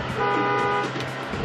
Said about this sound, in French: Alors moi je klaxonne, hein.